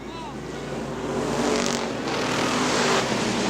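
Street stock race cars roar around the track at Butler Motor Speedway in a continuous, loud engine drone that swells slightly as they pass, with a commentator's voice running over the noise.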